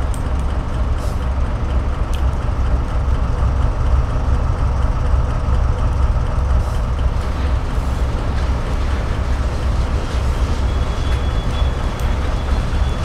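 A Freightliner freight train with a fault runs in Train Simulator 2017 on the St Phillips Marsh to Severn Tunnel Junction route, a steady loud rumble of engine and rolling wagons continuing throughout.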